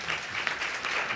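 An audience at a citizenship training session applauding its presenters and moderator, a dense, steady burst of clapping throughout the short moment.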